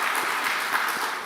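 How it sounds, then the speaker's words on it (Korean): Church congregation clapping together during a Sunday worship service in Baltimore, a dense, steady wash of many hands applauding at moderate distance, sustained without pause. "박수 한번 부탁드립니다."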